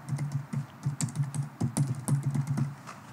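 Typing on a computer keyboard while entering PowerShell commands for cluster nodes: a quick, uneven run of close, crisp key clicks and taps, a dozen or so strokes with short pauses, no voices.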